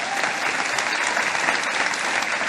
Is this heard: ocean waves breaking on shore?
no